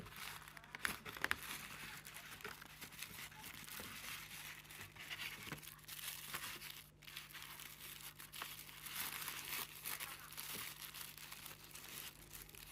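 A white envelope packaging a Clarins Lip Comfort Oil Collection set is opened, giving faint, close crinkling and soft tearing rustles that continue steadily.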